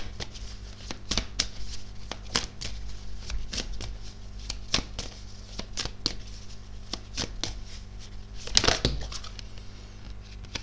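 Tarot cards being shuffled by hand, a steady run of quick papery riffles and slaps with a louder burst near the end, close and alone with no talk.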